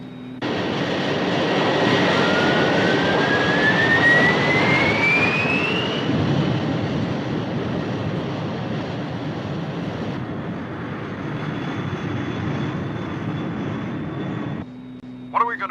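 Thunderbird 2 hovering on its vertical jets, a loud steady roar with a rising whine in the first few seconds, sustained throughout before cutting off near the end.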